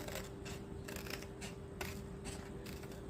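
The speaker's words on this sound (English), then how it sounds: "I can cut right down the middle" Scissors snip through a laminated paper bookmark in a quick series of crisp, close cuts, each a short sharp slice of plastic-coated card repeating in a steady rhythm against a faint steady hum.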